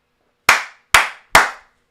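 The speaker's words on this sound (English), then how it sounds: "Hand clap, y'all." Three sharp hand claps, close and loud, evenly spaced about half a second apart, with short decays and silence between them.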